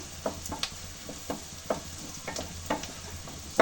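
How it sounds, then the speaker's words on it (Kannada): Avalakki uppittu ingredients fry in a pan with a soft continuous sizzle, broken by several brief scraping stirs of a spoon at an irregular rhythm, close and moderately quiet. "ಹಾಗೆ ಇದೆಲ್ಲ ಚೆನ್ನಾಗಿ ಫ್ರೈ ಮಾಡಿಕೊಂಡು"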